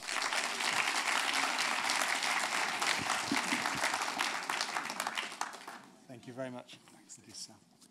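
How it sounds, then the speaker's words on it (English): An audience at a live stage show gives a full round of applause that runs steadily for several seconds, then thins out and fades as a presenter's voice begins speaking. "Round of applause for Steve Bennett."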